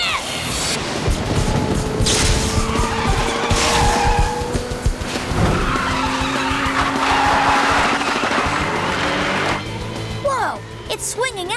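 A fast racing car with a new engine slides into a drift, its tires squealing long and loud over the engine roar, with sharp effects and shifting pitches near the end.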